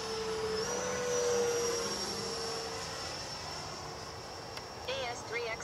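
An FMS Futura V2 RC model jet comes in to land on a calm morning, its electric ducted fan whining at a steady high pitch that slowly eases back toward idle, with a person talking nearby.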